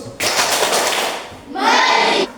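Pupils in a maths classroom clap together in a quick, loud burst of many hands, followed by a short stretch of children's voices chanting in unison.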